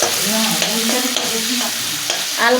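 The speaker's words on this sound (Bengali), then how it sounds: "চিংড়ি মাছটা দাও আমি একটুখানি নেড়ে দিই না বেশি ভাজবো না" Shrimp fry in a pan while being stirred, a steady close sizzle broken by repeated scraping stir strokes across about two and a half seconds, with no voices.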